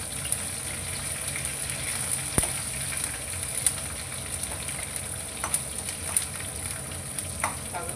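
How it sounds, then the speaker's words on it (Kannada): Curry leaves sizzle in hot oil alongside green chillies, a steady close crackling hiss broken by sharp pops and spits at irregular intervals, with no voices. "ಕರಿಬೇವು ಹಾಕಿ"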